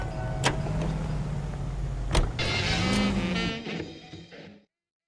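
A car from the L.A. Noire game hums steadily with engine and road noise, punctuated by a couple of sharp clicks and a whirring mechanical swell before the sound fades out.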